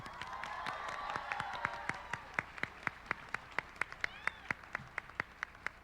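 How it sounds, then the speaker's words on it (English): An anime convention panel audience claps for the design team, starting as a brief burst of mixed applause and thinning into a steady, evenly spaced rhythmic clap from the crowd, moderately close. "So can I get a round of applause to our design team?"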